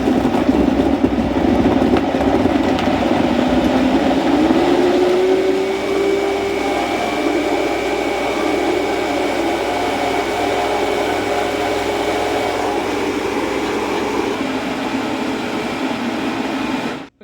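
A cheap blender blends whole strawberries, a loud continuous motor whir whose pitch rises and settles as the fruit breaks down, running steadily until it stops abruptly.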